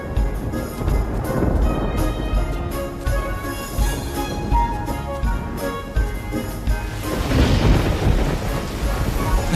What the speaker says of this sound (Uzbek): Qara, yomg'ir yog'yapti.